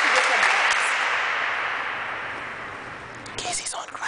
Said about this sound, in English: This is a team clapping.